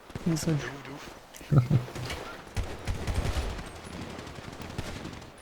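Handgun fire in the GTA RP roleplay game comes as scattered bursts of shots mixed with people talking, the shots fairly faint and blending into the voices.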